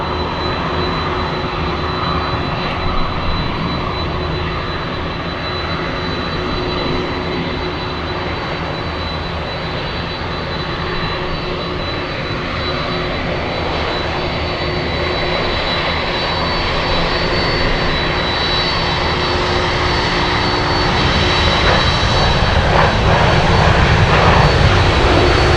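Jet engines of a Singapore Airlines cargo plane taxiing on a taxiway at Anchorage make a sustained roar with a thin whine, building louder toward the end, with no talking.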